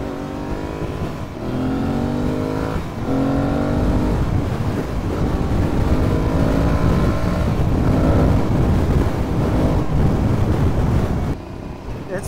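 An Aprilia Tuareg 660 parallel-twin motorcycle ridden off-road, its engine revving loud and close through several rising gear pulls with wind buffeting the microphone, and a rider's voice heard over it.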